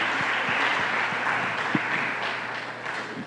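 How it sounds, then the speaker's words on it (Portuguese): Church congregation at a family service applauding the fathers on Father's Day, a soft, steady patter of many hands clapping at a distance, with a few louder individual claps standing out. "Você pode aplaudir esses homens de Deus?"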